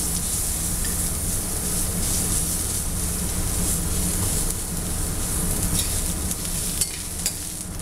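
Seitan and ginger frying in a pan on a stovetop burner, a loud, steady sizzle that runs unbroken throughout, with faint scraping of stirring.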